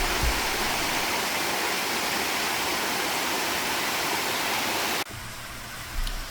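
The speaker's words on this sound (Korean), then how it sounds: "길과 폭포의 거리가 아주 가까운 특별함이 있습니다." A waterfall beside a hiking trail in Heullimgol, Seoraksan, makes a steady, loud rushing roar heard from close by. It drops suddenly to a quieter wash near the end, with no talk.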